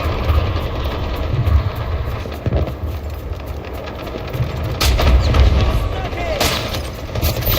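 An artillery barrage in a large-scale Minecraft battle: continuous loud rumbling with heavy low thuds and scattered sharp blasts, swelling around the middle and near the end, with a voice faintly mixed in.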